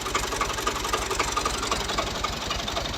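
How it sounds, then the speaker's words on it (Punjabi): A Ghazi 65 hp tractor engine runs in an onion field in a village in Punjab, Pakistan, giving a steady, loud diesel chug with a fast even knock throughout and no talk. "ਉਹਦਾ ਟਰੈਕਟਰ ਦੀ ਆਵਾਜ਼ ਮਾਸ਼ਾਅੱਲਾ ਠੀਕ ਆ।"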